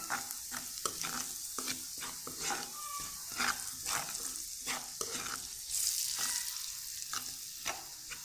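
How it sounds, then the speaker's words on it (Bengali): Turmeric, chili and coriander powder sizzle in hot oil as a spatula stirs them, ahead of adding rui fish heads for a curry with pumpkin greens. The frying hiss is continuous, with close, rhythmic scraping and no talk. "এখন মশলাগুলো আমি একটু নেড়ে নিব"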